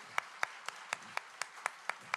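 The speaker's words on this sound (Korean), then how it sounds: "우리 한번 축복하는 마음에서 우리 환영의 박수 하도록 하겠습니다" Applause from a church congregation, with the individual claps standing out as sharp, evenly spaced strikes. About nine claps, moderately loud, with no voices over them.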